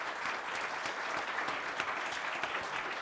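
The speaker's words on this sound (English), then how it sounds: "Give them a round of applause." Steady, dense applause from a conference audience for a panel at a new homes debate, an even wash of many hands clapping at moderate distance with no pauses.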